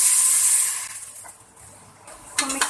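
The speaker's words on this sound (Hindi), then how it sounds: "अब हम इसमें थोड़ा सा पानी शामिल कर लेंगे," Water poured onto hot frying spices for mutton korma bursts into a loud hissing sizzle that fades over a couple of seconds before a fresh flare of hiss near the end.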